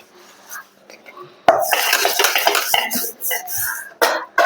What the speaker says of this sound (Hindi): इतना हम बर्तन साफ कर लेते हैं।